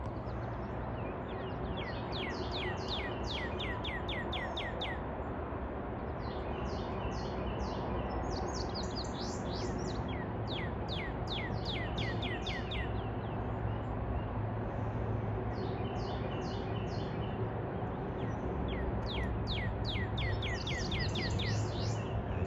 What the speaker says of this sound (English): So cool to hear the birds and that beautiful cardinal sitting up there.